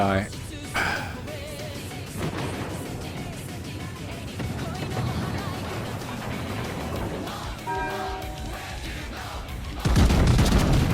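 Naval guns on the warship Daisen firing at the Bismarck in a naval combat game, heavy booming shots and rumbling blasts throughout, with someone talking over much of it.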